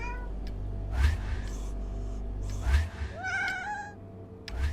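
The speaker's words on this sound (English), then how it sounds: "That cat made a noise, but it's a statue." A cat statue in the video game Don't Mess With Bober lets out several drawn-out meows, one rising to a wavering cry near the end, over a steady low rumble of background ambience.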